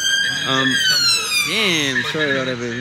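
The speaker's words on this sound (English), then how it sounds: "Sorry about the sirens coming out" Emergency vehicle sirens wailing on a London street, loud rising and falling tones that sweep across the moment while someone speaks briefly over them.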